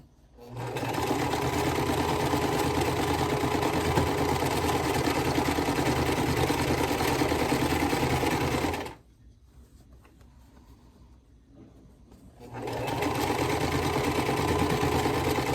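Sewing machine stitching quilt block fabric for a pressed flowers design, running steadily and loud for about nine seconds, pausing briefly to a low hum, then resuming its continuous mechanical whir.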